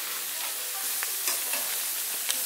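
A pancake sizzles steadily on a Korean BBQ grill outdoors, a close, continuous crackling hiss with occasional sharper pops and scraping, and no talk.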